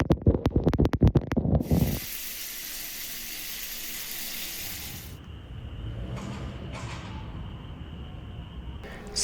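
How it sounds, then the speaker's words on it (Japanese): Shower water runs steadily in the small wet room of a 13-year-old used camper van, a continuous hiss that follows brief knocking and handling noises, then dips and softens partway through. "それではシャワー浴びていきます。"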